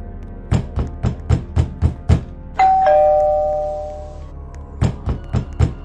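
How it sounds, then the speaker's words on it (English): A doorbell rings late at night with a two-tone ding-dong that hangs and fades, framed by rapid rhythmic knocking on a door before and after. "What kind of idiot would ring the doorbell this late at night?"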